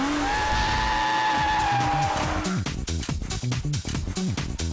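A drifting car squeals its tires as the rubber burns, a long rising screech giving way to rapid engine revs and choppy tire chatter, loud and close.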